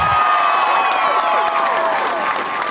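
An audience breaks into loud clapping and cheering all at once, a dense burst of applause with shouts and whoops that carries on steadily and only eases slightly near the end.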